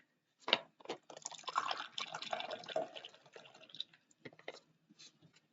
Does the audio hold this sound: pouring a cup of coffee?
yes